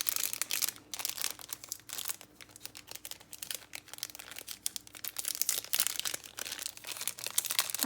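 Sticker and label packaging from a mini ephemera folder kit crackles and crinkles continuously as it is pried open, with dense close rustling and small tearing bursts throughout.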